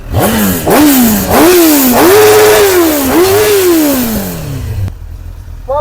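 A Yamaha Aerox scooter engine revs hard and close, with four or five rising and falling throttle blips that climb, hold and die away before the engine settles to a lower idle.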